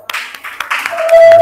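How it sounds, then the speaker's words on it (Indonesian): A classroom group claps for a presenting team; brief irregular hand claps and taps close by, a short scattered burst that thickens toward the end as a steady tone rises beneath it. "Yo, semuanya kasih tepuk tangan buat kelompok 3."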